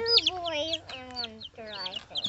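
One-week-old White Crested Black Polish chicks, multicolored with visible crests, peep in high, rapid chirps that run almost continuously and close up, with a low hum underneath.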